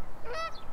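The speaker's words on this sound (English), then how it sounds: "Geese are rolling in." A single goose honk rings out nearby and clearly, a short nasal call over faint outdoor background noise as geese fly in to land.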